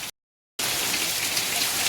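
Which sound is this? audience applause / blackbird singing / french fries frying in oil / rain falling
rain falling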